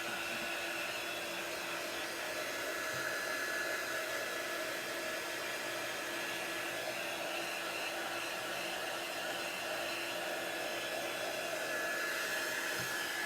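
A hair dryer blows steadily and loudly at close range, drying a chalk transfer stencil on a chalkboard, a constant whooshing roar that holds unchanged throughout with no talking.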